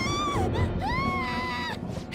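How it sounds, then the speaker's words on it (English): Scream in the Persona 5 video game, a loud wavering high-pitched cry that bends and swoops over several seconds above a dense bed of game sound. "Scream? What was that?"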